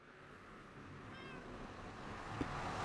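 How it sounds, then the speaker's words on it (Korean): A cat meows in a survival video game, giving a short, faint, slightly wavering call near the middle, set against a soft, steady background hum. "우와, 고양이가 여기 있어!"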